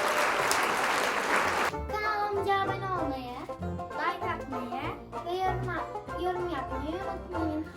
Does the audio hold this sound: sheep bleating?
no